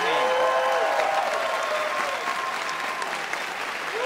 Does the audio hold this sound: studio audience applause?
yes